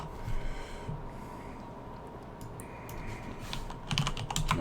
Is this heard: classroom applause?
no